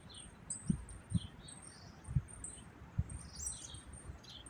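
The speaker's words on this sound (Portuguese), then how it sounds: "Ao canto dos pássaros" Birds sing from a distance in the countryside near João Monlevade, with faint high chirps and trills over a soft background rumble and a few low, dull thumps.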